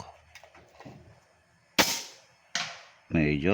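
Upgraded toy gun fired at a target during a shooting test: after brief talk, two sharp snapping shots ring out close by, followed by a short rasping burst.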